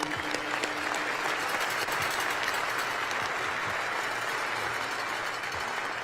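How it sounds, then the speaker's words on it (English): A crowd at an Air Force test wing annual awards ceremony gives sustained, even applause for the award nominees. The dense clapping fills the room at a constant level throughout, with no talk. "So another round of applause for all of our nominees."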